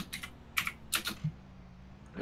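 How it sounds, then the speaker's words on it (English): Someone types on a computer keyboard in short clustered bursts of clicks, close and fairly crisp, with brief pauses between the runs of keystrokes. "I just started typing. Yeah, it's very loud."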